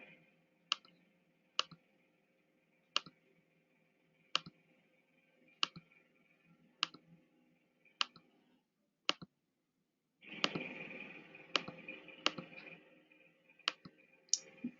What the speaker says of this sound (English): Clicking the green check will turn it to gray to let you know that you've approved it.